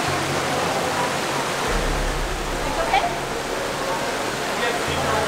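Water rushes through Saklikent Gorge in Turkey, a steady broadband roar from a deep flowing stream and pool, constant and close throughout, with a low rumble entering midway.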